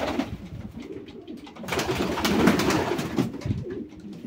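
Several pigeons coo repeatedly inside a pigeon loft, soft overlapping throaty calls at close range that grow busier midway, with no talking.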